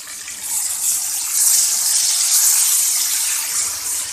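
Ginger garlic paste frying in hot oil for a capsicum masala curry gives a steady, dense sizzling hiss that holds at an even loudness throughout, with no talking.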